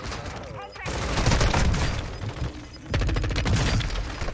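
Guns fire in Warzone 2.0. Loud, dense, close rapid fire comes in two stretches split by a brief lull, with voices talking over the shooting.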